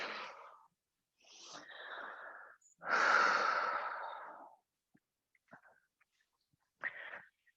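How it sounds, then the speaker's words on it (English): Deep breathing during a yoga flow, with slow, airy inhales and a long, loud exhale at close range, separated by quiet pauses and a couple of softer breaths at the end. "Take some deep inhales and exhales."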